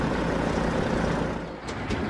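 A truck parking with its engine rumbling steadily close by, then two short sharp air-brake hisses near the end, no voices.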